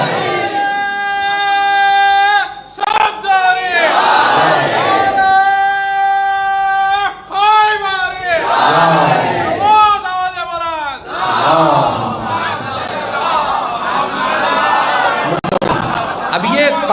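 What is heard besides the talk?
crowd chanting salawat with raised hands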